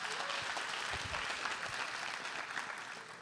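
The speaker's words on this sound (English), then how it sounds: "A round of applause for that." Indoor audience at a business forum applauding, a dense, steady wash of clapping hands from a sizable crowd, fairly near and continuous for a few seconds without talking.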